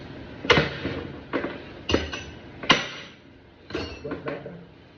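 A hammer taps several times on a pressure valve pin inside the pump of a 2012 Nissan Juke CVT transmission, giving sharp metallic knocks in an uneven rhythm with short ringing tails, close to the mic.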